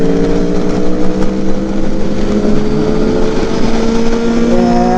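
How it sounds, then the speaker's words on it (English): A 600i motorcycle fitted with an IXIL exhaust runs close by with a loud, steady engine drone whose pitch climbs slightly as it revs. The sound is continuous with no talking. "600i on IXIL exhaust, the loudest one in the block."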